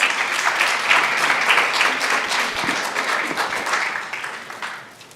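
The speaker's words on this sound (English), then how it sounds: "Let's give a round of applause to the Matadors." An audience at a Ysleta ISD school board meeting applauds the Matadors with sustained, dense clapping that fills the room, then gradually fades toward the end.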